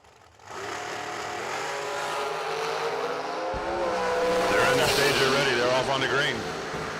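Dragsters race down a drag strip during a second elimination round, their engines rising into a loud, climbing roar that swells toward the end, under a public-address announcer talking throughout.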